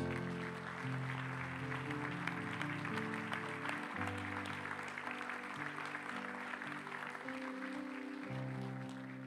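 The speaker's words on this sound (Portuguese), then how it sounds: "Vamos aplaudir o nome de Jesus." A church congregation, standing for an evening service, applauds in a steady broadband wash beneath loud, sustained worship music that continues throughout.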